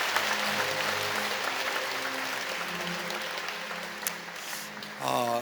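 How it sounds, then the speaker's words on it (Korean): Clapping from a church congregation at a Sunday service welcomes guests as a sustained wash that fades, with a voice and brief tones near the end. "여러분께 박수로 환영하시죠"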